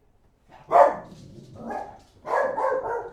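A dog barks nearby indoors, a sharp bark followed by a couple of rougher, longer barks over about three seconds, with no talk over it.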